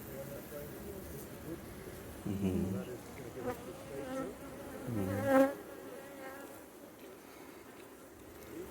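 Honeybees buzz around an open hive during an inspection, a soft droning hum with a few louder passes of individual bees flying close, under faint background noise and occasional voices.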